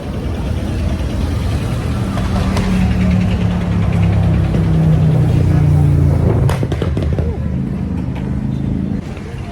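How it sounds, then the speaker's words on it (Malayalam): Traffic rolling past on a busy bridge road near a large shopping mall, a steady close engine drone with passing cars and motorbikes, continuous and loud throughout, with people talking over it. "വാ വണ്ടി വരുന്നു"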